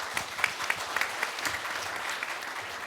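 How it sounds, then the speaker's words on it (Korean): Audience at a Korean forum session applauds for Okinawa Prefecture, a brief, fairly faint patter of clapping from a modest crowd in a hall. "우리 오키나와 현을 위해서 한번 박수 한번 쳐주시면 감사하겠습니다"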